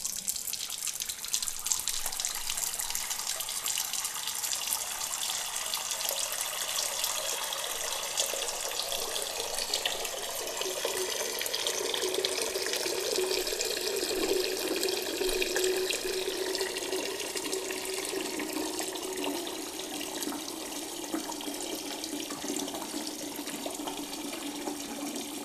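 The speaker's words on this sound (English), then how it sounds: "we're just going to put two in the sink with some warm water" Warm water runs steadily from a tap into a sink, a close continuous rushing splash whose pitch slowly rises as the basin fills.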